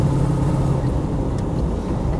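A Land Rover 90 CSW V8 engine runs at a steady idle, a continuous low rumbling drone heard close and fairly loud throughout.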